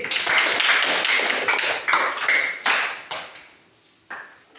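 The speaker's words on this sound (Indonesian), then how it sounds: "Tepuk tangan untuk Cindy." A classroom of students clapping for a classmate, a dense burst of hand claps that fades out over several seconds, with a few scattered claps near the end.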